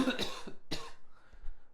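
Two or three quick, raspy coughs close to the microphone, followed by softer throat noise.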